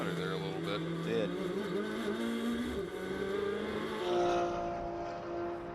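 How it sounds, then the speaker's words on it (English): A GT race car screams at high RPM near its rev limiter on the Virginia International Raceway circuit. The engine note is sustained and shifts in pitch, with other cars blending in around it and commentary running over the top. "Really high RPM, they're right at the peak of the rev range there"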